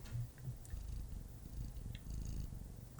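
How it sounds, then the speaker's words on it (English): A female cat purrs up close, a soft low continuous rumble with a steady pulsing rhythm and faint small noises above it. "She's purring. It'll probably come through in the recording."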